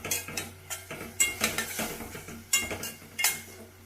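A spoon scrapes and clinks against a metal pan while tomato and garlic paste is stirred for Mysuru-style dal fry, giving irregular close metallic taps and scrapes with no talk.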